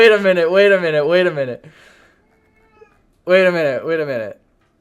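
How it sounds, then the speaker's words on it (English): A cat meows loudly and close by in long, drawn-out wailing cries, one stretched call, a quiet pause, then another strained meow. "My cat is dying in the background."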